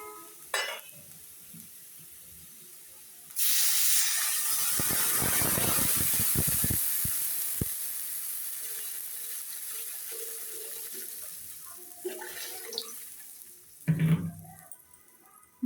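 Water is poured into a pan of fried potatoes, setting off a sudden loud hiss and sputtering sizzle that slowly settles into a steady simmer, with a few clanks of a utensil near the end.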